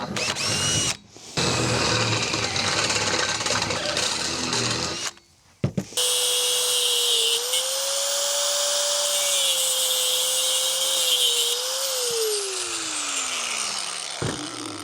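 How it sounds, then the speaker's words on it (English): A power drill bores holes in a fiberglass tower, first in a loud grinding burst, then after a brief pause a long, close, high whine that holds and shifts in pitch before winding down. "I've got to drill some holes and get some lifting eyes."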